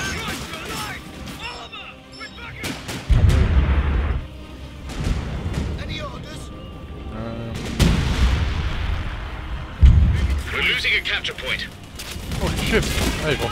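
Artillery fire in the World War II strategy game Company of Heroes: several heavy booms land at intervals amid a dense battle din of gunfire and explosions, with voices talking over it.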